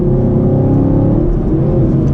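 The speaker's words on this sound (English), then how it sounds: "It really has that muscle car sound." A 2018 Chevrolet Camaro SS V8 engine rumbles and revs steadily up close, a throaty, continuous growl with no voices.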